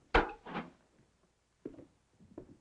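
A wooden door in a house in a 1938 crime film, opening and closing with two close knocks and thumps, then a pause and two softer clunks, with no talk.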